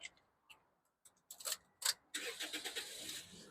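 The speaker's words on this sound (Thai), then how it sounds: "เดี๋ยวเราไปดูในส่วนห้องเครื่องเราไปฟังเสียงเครื่องยนต์กัน" A 2012 Toyota Vios 1.5 ES engine starts with a few sparse clicks and ticks, then catches into a steady, pulsing idle that runs on alone.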